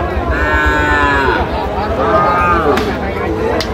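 Cattle moo loudly and repeatedly at a busy calf market in Ambari, long drawn-out calls overlapping one another close by, with a steady crowd murmur beneath and people talking.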